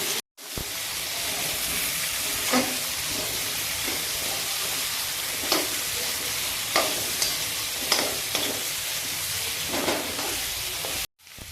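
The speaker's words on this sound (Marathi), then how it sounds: "ही वांगी अशा प्रकारे तेलात चांगली परतून घ्यायची" Stuffed eggplants frying in hot oil in a pan, with a steady loud sizzle throughout and occasional scraping stirs punctuating it, close up and without talk.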